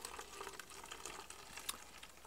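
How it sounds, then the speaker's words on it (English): Worm tea being poured into a cut-open plastic water bottle in a greenhouse fertigation setup, a soft continuous trickle of liquid lasting a couple of seconds, quiet and close. "I'm just going to pour that in here"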